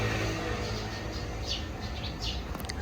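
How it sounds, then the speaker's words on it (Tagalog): Birds chirp outdoors in a quiet spot in Japan after light rain, a few short faint calls heard at a distance over a soft background hum. "Rinig na rinig niyo yung mga ibon, di ba?"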